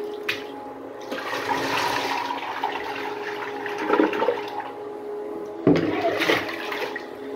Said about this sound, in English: Now we're gonna do bucket flush.